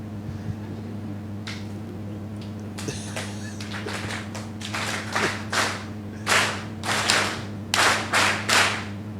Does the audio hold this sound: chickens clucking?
no